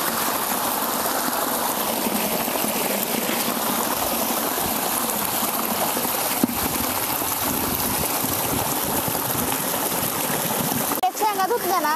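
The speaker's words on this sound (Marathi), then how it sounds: "एवढे शेंगा बी धुवून घेते आणि कोथिंबीर बी धुवून घेते" Bean pods and coriander being rinsed in well water give a steady, close wash of running and splashing water for the whole stretch, with a brief sharper splashing near the end.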